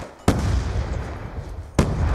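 Shotgun fire in Call of Duty Black Ops 2 during a Domination match: two loud, booming blasts roughly one and a half seconds apart, each followed by a sustained rumbling tail of game noise.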